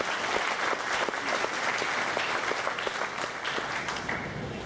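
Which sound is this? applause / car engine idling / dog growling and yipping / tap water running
applause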